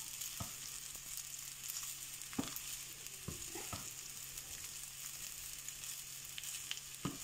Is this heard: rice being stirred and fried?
yes